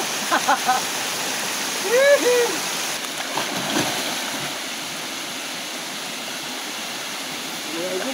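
Waterfall roaring as a steady broadband rush of water, fairly close and continuous, with brief voices and bird-like chirps over it near the start.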